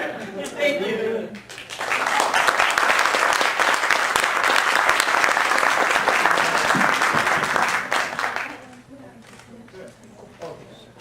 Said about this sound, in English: Margarita Berry, give her a round of applause again